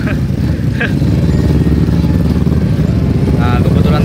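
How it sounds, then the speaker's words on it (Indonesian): A group of Ninja sport motorcycles rumbles nearby with a steady mid-pitched engine drone at an outdoor spot near a beach, holding throughout without a clear break. "kumpulan motor ninja."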